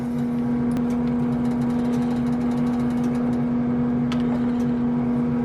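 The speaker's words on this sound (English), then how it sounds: "Sorry about the noise in the background." An air fryer hums steadily in a kitchen, a constant close drone with no pauses, and faint clicks and clatter sound now and then.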